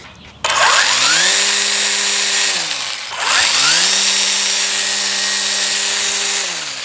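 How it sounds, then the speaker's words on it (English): A Ryobi 40V HP brushless string trimmer whines up to full speed twice, each time holding a loud, steady buzzing hum before winding down, close by with no talking. "this is the Ryobi 40V HP brushless string trimmer"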